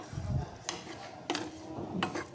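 A spoon scrapes and clinks against a pan of cooked black-eyed peas a few times, with soft stirring noises in between.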